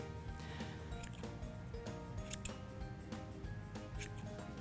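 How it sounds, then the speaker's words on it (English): Spring-loaded scissors snip through the yarn loops of a pom pom maker in a quick series of soft cuts. The snipping is close and faint, and fibers rustle steadily underneath. "I like to use the spring-loaded scissors to cut the loops"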